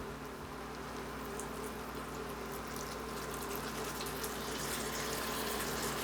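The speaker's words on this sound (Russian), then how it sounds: "Наливаем воду." Water pours steadily into a pot of oven-baked plov, a continuous splashing fill that runs the whole time with no talk.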